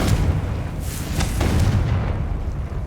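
Bombarda and Confringo spells exploding in the video game Hogwarts Legacy: a loud, sustained blast with deep rumbling booms and crackling bursts layered over one another, continuous for the whole stretch.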